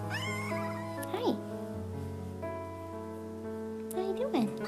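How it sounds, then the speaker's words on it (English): A house cat meows up close, drawn-out rising cries repeating a couple of times, with a steady tonal music bed underneath. "This is my cat."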